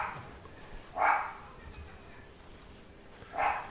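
A dog barks in two short bursts, a few seconds apart, moderately close but not loud, over a faint background hum with no talking in between.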